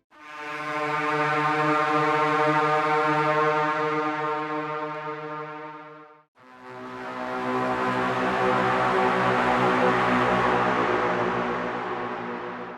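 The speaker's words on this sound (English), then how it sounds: "I sampled another old instrument called a lure. It's basically a valveless horn" An old valveless horn called a lure, sampled, sounds two long sustained blasts of about six seconds each, rich in harmonics, swelling in and fading out, the second breathier and rougher in tone.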